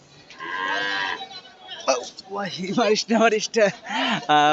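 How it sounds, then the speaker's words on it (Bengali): Cattle at a busy cow market in Bangladesh, where a large cow is walked around for show: a drawn-out, close moo-like call followed by people talking nearby. "অনেক বড় সড়ো একটি গরু।"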